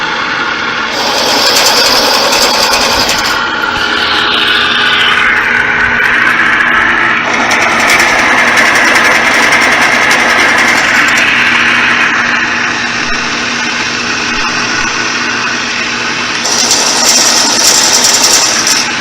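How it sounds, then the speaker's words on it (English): A Ridgid K60 sewer machine, freshly disassembled, cleaned and greased, runs steadily at close range with a continuous whirring motor drone and light mechanical clatter, no voices. "good sewer machine."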